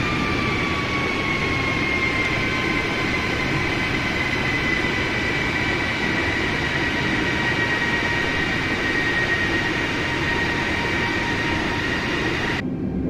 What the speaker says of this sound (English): So I'm gonna just go ahead and drop the gear early.